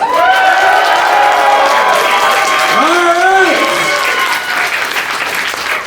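Crowd applause at a live wrestling show, a sustained close wash of clapping with excited voices and shouts rising above it throughout.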